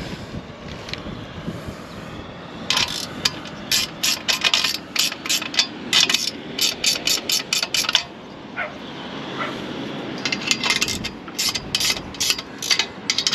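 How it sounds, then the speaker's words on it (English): A ratchet wrench tightening the bolts on a chimney bracket outdoors, with bursts of rapid clicking strokes repeated in quick runs over steady wind noise on the microphone. "I'm going to tighten up the bolts on here now, make sure it's all straight there"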